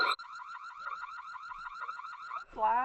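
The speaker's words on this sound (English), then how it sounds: "I can sound an alarm." A home security camera sounds its alarm siren, a loud, rapidly warbling electronic wail repeating steadily for over two seconds, then breaking into a different sweeping tone at the end, heard close and alone.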